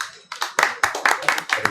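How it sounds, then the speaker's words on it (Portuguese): A short round of applause with about eight crisp, closely spaced hand claps, moderately loud and fairly near, as if from a small group or a single person at an interview. "Uma salva de palmas"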